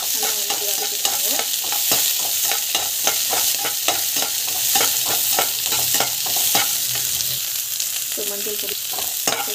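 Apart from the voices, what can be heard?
sautéing mustard, cumin, chana dal, onion, green chili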